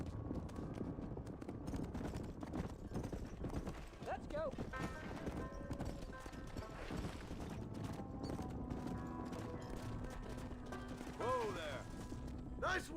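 Horse hooves clip-clop steadily in Red Dead Redemption as a horse is led toward a pen, a continuous rhythmic patter running beneath game sounds and brief speech.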